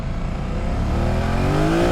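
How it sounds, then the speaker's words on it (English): The twin-cylinder engine of a BMW F900 GS motorcycle pulls hard on a road ride in Wales, its rising drone climbing steadily in pitch, loud and close for the whole stretch with no voices. "Yeah, it's got a lot of poke, this little twin"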